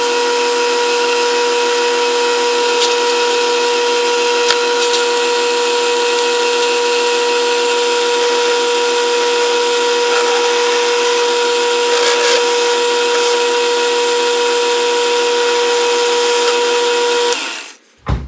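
A metal lathe runs loud and steady with a sustained mechanical whine and a bright hiss of cutting a small synchronizer screw for a Mikuni round-slide carburetor, for about seventeen seconds, then stops abruptly.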